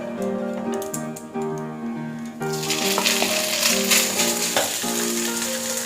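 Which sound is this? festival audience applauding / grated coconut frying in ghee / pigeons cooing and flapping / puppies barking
grated coconut frying in ghee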